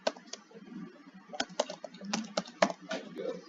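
Typing on a computer keyboard while entering a function in RStudio; a quick, irregular run of close, crisp key clicks with brief pauses between bursts.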